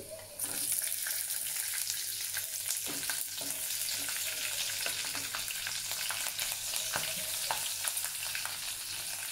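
Asafoetida and green chillies sizzle hard in a garlic tadka for a spicy besan pitla, a steady loud frying hiss with scattered pops and crackles, close up and without speech.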